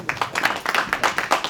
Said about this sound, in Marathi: प्लीज टाळ्या